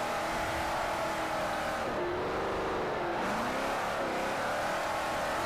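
A Camaro or Scion FR-S drifts on a grassy track, its engine revving hard and loud with pitch that dips and climbs as the car slides and recovers, steady and close throughout.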